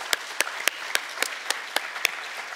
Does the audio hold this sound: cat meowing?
no